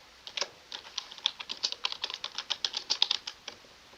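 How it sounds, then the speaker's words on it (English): Keys clatter in a quick, irregular burst as someone types a chat message on a computer keyboard, close and fairly quiet, with no talking. "I'll type it in the chat."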